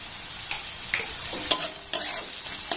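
Onion with green chillies and salt stir-fried in a pan, with a soft hiss of frying under repeated spatula scrapes and stirs, several distinct strokes in quick succession, close and moderately quiet.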